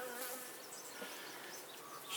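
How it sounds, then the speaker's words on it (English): Bees trapped inside a homemade bee vacuum on its trial run buzz steadily and continuously, a dense close-up drone with no voices over it. "There are a few sad looking bees in there."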